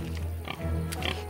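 A cartoon wild pig grunts and oinks in low, throaty snorts, several quick bursts close up with no talking over them.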